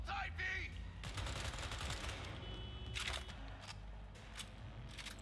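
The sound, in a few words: gunfire while shooting in video game Cyberpunk 2077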